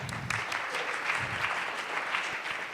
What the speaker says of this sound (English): Round of applause for yourselves, for showing up.